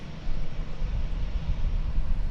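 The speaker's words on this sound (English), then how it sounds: "Beech C99 coming in from Clinton" An Ameriflight Beech C99 twin turboprop arriving at DFW Airport, heard as a continuous low engine rumble with wind-buffeted roar, steady and moderately loud throughout with no speech.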